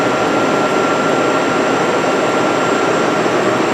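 A Trak DPM2 CNC vertical mill spindle runs at 1200 RPM, heard close up as a loud, steady whine and hiss with a constant high tone and no change throughout.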